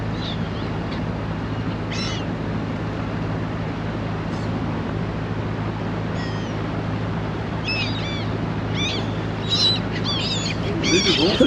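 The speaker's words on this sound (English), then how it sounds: "the salt surge has killed a lot of fish and the seagulls are making the most of it" Seagulls on the Norfolk Broads call over dead fish killed by a salt surge, with scattered sharp squawks and cries at a distance over steady low engine hum, growing busier toward the end.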